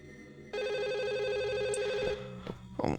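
A telephone ringing in a Chinese horror video game, one electronic ring that sounds clearly and steadily for about a second and a half, then stops and gives way to faint shuffling noises.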